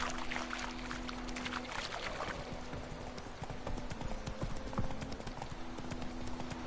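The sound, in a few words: horse galloping hooves in video game The Witcher 3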